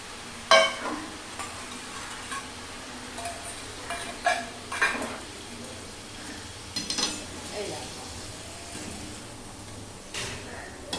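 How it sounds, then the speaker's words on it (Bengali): Spices are sautéed in a pan for mung dal with jackfruit. A low background sizzle is broken by intermittent scraping and clinking of a spoon against the pan, close by. "এই যে এই মশলাটা দিয়ে এখন কষিয়ে নেব।"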